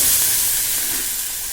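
Ground tomato chutney paste hits a hot pan and sizzles loudly and steadily, a close, continuous frying hiss that eases slightly toward the end, with no talk over it.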